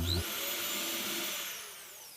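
A power drill bores a pilot hole into wood for a driving nut, set against a guide: a close, loud, steady high whine that runs alone for about two seconds before winding down.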